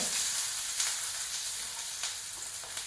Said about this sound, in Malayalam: എണ്ണ ചൂടായി കഴിയുമ്പോൾ സവാള വേണം